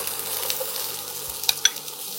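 Garlic and onion fry in a pan for Malabar chicken curry, a soft continuous sizzle with a few sharp stirring clinks and scrapes near the end, no talk.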